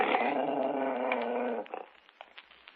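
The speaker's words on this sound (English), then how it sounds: "It seems that my dog has been scratching at your door again." A dog at a door gives a long, steady, close growl that cuts off abruptly, followed by a few softer whimpering and scuffling sounds.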